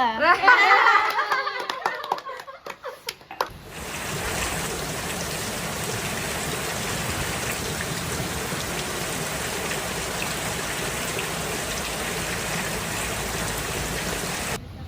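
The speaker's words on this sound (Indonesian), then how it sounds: "Ini lagi hujan, ngopi dulu ah." After a few seconds of speech, steady rain takes over, a dense even patter and hiss that holds unchanged to the end.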